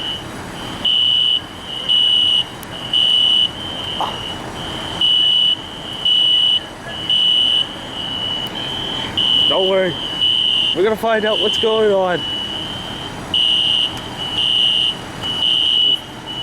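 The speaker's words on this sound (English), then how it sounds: "This is the first time I actually get to film a fire alarm." A fire alarm beeps in steady repeated pulses, loud and close, with someone talking over it partway through.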